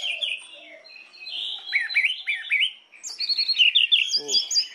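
An orange-headed thrush (anis merah) sings close by in clear, varied whistled phrases and quick chirps. It sings alone, with short pauses between bursts.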